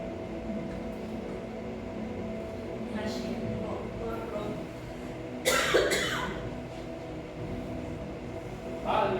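Two sharp coughs in quick succession cut through a steady low hum, with a shorter cough-like burst near the end.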